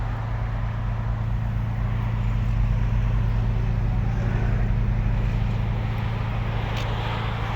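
A 2012 VW Golf VI GTI with a 2.0 TSI engine, 147 kW and a six-speed DSG automatic idles with a steady, deep exhaust drone, constant and close with no voices.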